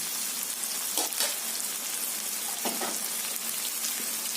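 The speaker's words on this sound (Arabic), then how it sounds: "استنى بقى لما البصل يتحمر" White onions fry in oil for koshari with a constant hissing sizzle, close and moderately quiet, broken by a few brief stirring scrapes.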